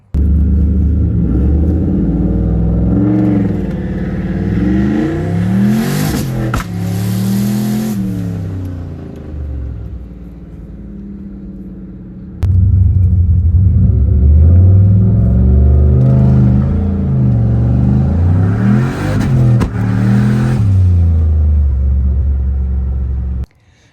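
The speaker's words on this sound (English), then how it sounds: "you can see multiple times the car really bogged down" A Mustang's engine revs hard and loud up close around 3000 RPM, rising and falling in pitch through two separate launches, sputtering and bogging between pulls.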